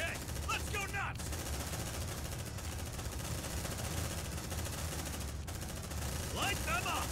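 Sustained automatic gunfire from the Aliens: Dark Descent video game, a dense continuous roar of rapid shots with brief breaks, while voices call out over the shooting.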